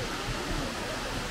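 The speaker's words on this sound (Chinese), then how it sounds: "这个水感觉源源不断的，但是很克制的在流" Water flows steadily and evenly at Ogawa waterfall in Kagoshima, Japan, a continuous broad rushing with no voices over it.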